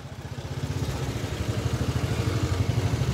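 Motorcycles move through a traffic jam on a trip to Shimla, their engines making a rapid, pulsing putter that grows slightly louder and closer.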